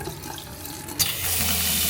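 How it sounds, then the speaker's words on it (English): Water rushes steadily from RV faucets as the onboard water pump kicks in, a broadband hiss that starts after a short pause and holds at an even level to the end. "Now we're gonna turn the water pump on, and we'll just run it through the faucets till it smells like bleach."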